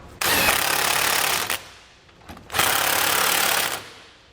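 A power tool with a 19mm socket tightens the bolts holding trailer hitch side plates to the frame of a 2017 Chevrolet Silverado, running in two loud bursts of about a second each with a brief pause between, close by.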